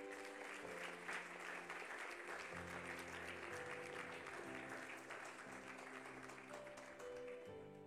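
A church congregation applauds together, a steady wash of clapping from many hands running the whole time, with sustained organ or keyboard chords beneath it.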